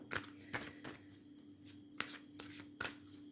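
Oracle cards being shuffled by hand before a draw, a quiet papery riffle with several short bursts spread unevenly across a few seconds, close and alone.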